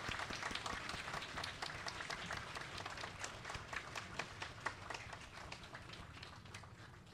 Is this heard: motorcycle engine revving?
no